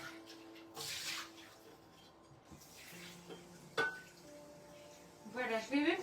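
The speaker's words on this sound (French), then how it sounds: "je rince un petit coup le bol" Bowl being rinsed under a running kitchen tap while cooking lasagne bolognaise, with splashing water, a few clinks of dishware and quiet talk in the background.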